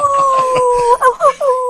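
A person imitating a dog with a drawn-out howling bark, then a few short yelping vocal bursts, loud and close.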